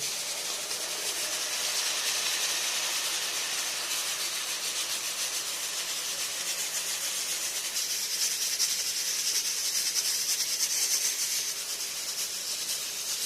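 Ginger garlic paste fries in a hot pan with a loud, steady, unbroken hiss that runs the whole time, close up and without any talking.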